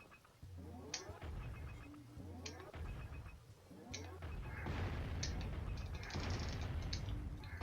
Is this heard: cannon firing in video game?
yes